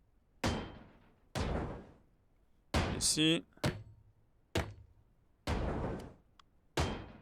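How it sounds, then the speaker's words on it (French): Sharp, resonant hammer blows strike metal in the ship-breaking game Ship Graveyard Simulator 2, seven separate hits spaced about a second apart, with a brief rattling clatter among them and a short spoken word. "On va avoir des coups de marteau à mettre juste après."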